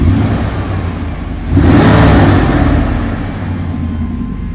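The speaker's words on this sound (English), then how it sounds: "All right, here's that first fire up." A large Vortec 350 V8 truck engine cranks and fires up, then revs with a loud surge before settling into a steady, rumbling idle close by.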